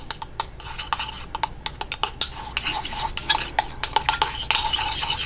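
A utensil mixes homemade lotion with added preservative, giving rapid repeated clicking and scraping strokes against the container that build into a dense, continuous stirring rhythm, close and fairly loud.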